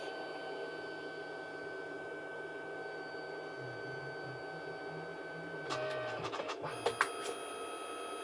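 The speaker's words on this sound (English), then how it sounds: "And then it'll add one more. Yep, one more layer to finish it off." A Liene Amber M110 photo printer finishes printing a photo with one more layer, a steady mechanical whir joined near the end by sharp clicks and feed-motor sounds.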